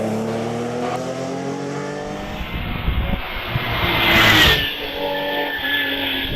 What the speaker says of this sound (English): And away goes Chris Stone then in the Porsche